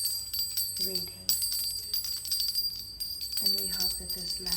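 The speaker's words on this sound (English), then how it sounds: "Now, the bells are ringing." Bells ring in repeated bright strikes with a sustained high metallic shimmer, close and fairly loud, with soft voices and background sounds underneath.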